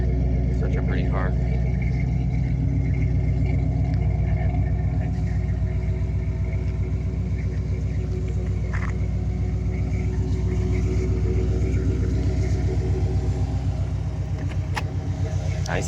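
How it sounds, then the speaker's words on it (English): A 1956 Chevrolet 150 with a 361 hp V8 idles through dual Flowmaster exhausts, giving a deep, steady, close rumble that runs unbroken under ongoing conversation. "Dual exhaust. Sounds like Flowmasters."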